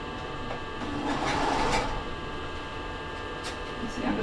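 A sewing machine stitching fabric gives a steady mechanical whir, with brief rustles and clicks as the fabric is pulled along.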